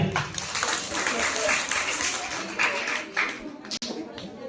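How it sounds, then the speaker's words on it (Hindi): Audience clapping at a school farewell party, a lively spread of hand claps from a gathered crowd with voices talking over it and a sharp knock near the end. "उनके आत्मविश्वास के लिए हम जोरदार तालियां"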